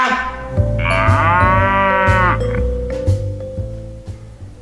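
A cow moos once in a long, drawn-out low call, loud and close, over a soft steady musical tone.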